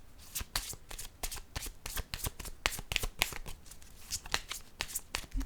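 Tarot cards are shuffled close up in quick, crisp riffles and flicks, a dense run of papery snaps and slides with no talking.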